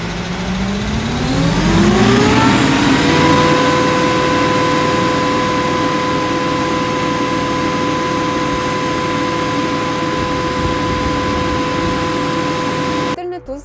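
An Arbos 5130 tractor engine, about 130 hp, runs up and holds under load during a rear hitch lift test on a dynamometer, rising steeply in pitch and then droning at a loud, steady whine.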